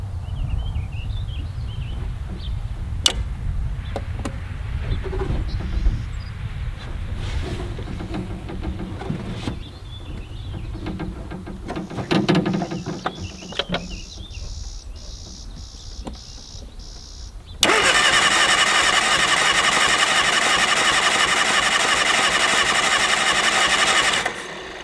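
A Mini Moke is tinkered with quietly at first, with soft clicks and faint rustling. Then the engine is cranked and bursts into a loud, steady, buzzing run that holds to the end. No voices.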